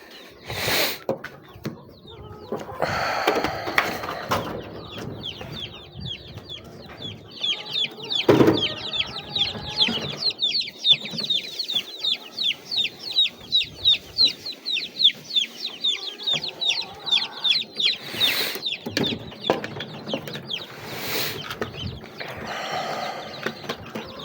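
Chickens cluck and chatter in a steady rhythmic stream, close by, with occasional rustling and knocking sounds in between.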